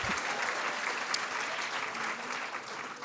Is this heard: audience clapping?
yes